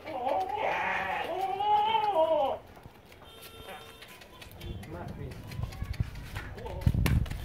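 A goat on a goat farm bleats loudly and repeatedly near the start, several wavering calls in a row, then the sound drops to scuffling and low rustling while people talk nearby.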